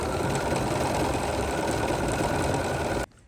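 A sewing machine hums loudly and steadily, stitching a crisscross cross-stitch over the seams of a small heart quilt, then cuts off abruptly near the end; close and continuous with no talking.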